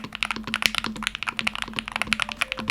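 Rapid, steady typing on a Hall effect keyboard with crisp clacking keystrokes, close and clear, with a faint low hum running underneath.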